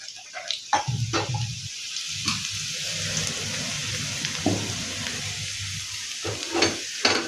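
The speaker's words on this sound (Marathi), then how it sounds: "लसण छान तळला की आपण त्यात त्या शेंगा टाकून घेऊया" Garlic frying in hot oil gives a bright crackling sizzle, then green beans tumble into the pan with a burst of louder spitting and stirring scrapes, the frying noise running steadily close by.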